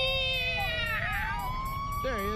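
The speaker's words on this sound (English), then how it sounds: "we're bringing out a lot of fire trucks" Fire truck sirens wail in a steady rising and falling tone, heard at moderate distance over low rumbling background noise, with another short wavering tone joining near the end.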